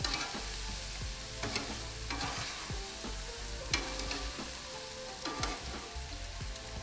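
Calamari marinade caramelizing on a hot BBQ grill, a dense, even sizzle crackling steadily underneath quick scraping and stirring strokes, close and fairly soft overall.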